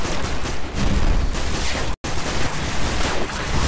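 Video game Destiny combat, loud continuous blasts and gunfire-like roar filling the scene, with a brief dropout midway before the barrage resumes.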